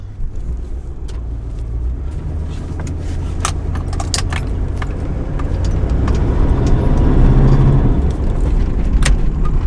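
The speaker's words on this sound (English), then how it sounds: "It's just running like it's missing a cylinder or something." A Jeep ZJ engine running rough as if missing a cylinder, a steady, uneven low rumble that holds throughout at close range, with metallic clinks and jingles scattered over it and no talking.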